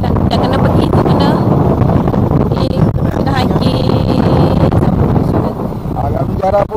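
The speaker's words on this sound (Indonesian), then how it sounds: "Angin kuat ni." Strong coastal wind at Tanjung Biru buffets the microphone in a steady, loud roar that runs the whole length, with someone talking over it throughout.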